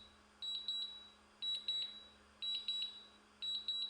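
Quiet, high-pitched electronic beeping from a drone controller repeats in regular double-beep groups about once a second over a faint background hum as the drone returns home.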